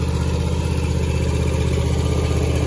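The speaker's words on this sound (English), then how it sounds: "That little Chinese carburetor runs pretty good." A John Deere Z255 lawn tractor engine runs steadily up close on a new Chinese aftermarket carburetor, giving a continuous throbbing idle with no pauses.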